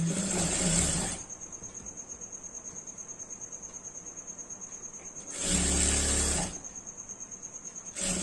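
A sewing machine stitches the seam of a long frock with its lining, running in two bursts of steady, fast needle rattle with a quieter hum between them, close and alone.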